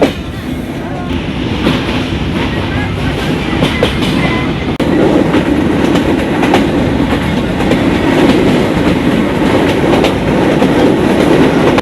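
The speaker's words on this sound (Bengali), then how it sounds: "আমরা এখন আড়ানি রেল স্টেশন অতিক্রম করে যাচ্ছি" A train runs steadily on rails past Arani railway station in Bangladesh, a loud continuous rumble with faint rhythmic clacking of wheels over track joints throughout; no voices.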